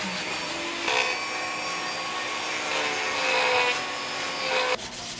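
Fine sandpaper rubs steadily over a small ivory carving, a continuous close hiss of abrasion that swells and eases slightly before stopping near the end.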